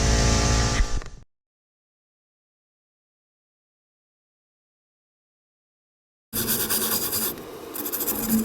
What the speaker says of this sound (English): Now I'm going to take a shop rag and some brake clean and clean this all up,